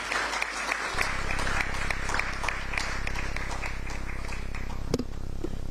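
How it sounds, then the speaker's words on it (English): An audience at a Ghanaian public forum on media, hate speech and democracy applauds a UN Resident Coordinator, with dense, sustained clapping filling the room for several seconds. "Let's give him another round of applause."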